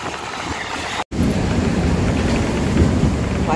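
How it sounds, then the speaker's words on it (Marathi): Heavy monsoon rain beats on a state-run red bus travelling from Devrukh to Sangameshwar, a loud dense roar that fills the whole clip and drops out for a split second. "पाऊस पण खूप आहे"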